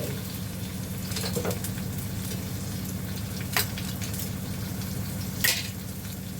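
Chopped garlic and onion sizzle steadily in hot oil for a home-style Agri curry tempering, a constant close frying hiss with a few brief stirring clinks and no voices.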